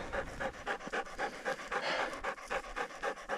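Hunting dog on an early-season ruffed grouse hunt panting hard and fast, a steady rhythmic run of breaths close by with no talk over it.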